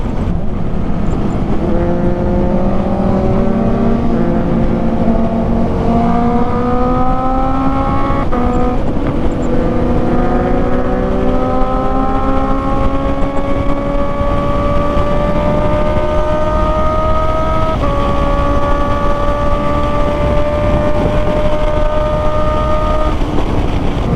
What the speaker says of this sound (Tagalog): Galit na yung tambutso natin.